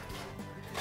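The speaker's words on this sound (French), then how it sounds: "La première étape, on va couper l'oignon." A knife roughly chopping an onion on a board gives a short close burst of dense cutting noise with a sharper knock at the end.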